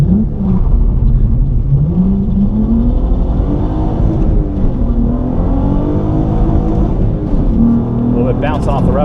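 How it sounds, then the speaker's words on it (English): A J35-swapped Honda CL9 (TSX Type S) engine revs hard and loud throughout, its pitch climbing and bouncing off the rev limiter in a steady high whine, with talking over it. "Bouncing off the rev limiter that time."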